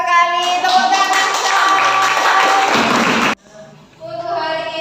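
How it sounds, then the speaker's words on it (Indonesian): Applause from students in a classroom, a dense burst of clapping lasting about three seconds and then cutting off abruptly, followed by a quieter stretch. "Tepuk tangan."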